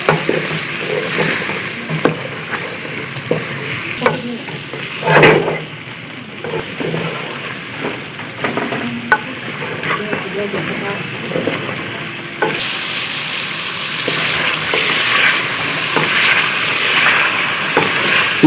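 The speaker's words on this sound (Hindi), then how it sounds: "थोड़ा हम और भून लेंगे इसको 1 से 2 मिनट, क्योंकि अच्छा जायका निकलना चाहिए।" Chicken for nihari fries in a pot while being stirred, a loud continuous sizzle broken by repeated scraping and clanking strokes of a spoon, with the hiss swelling louder toward the end.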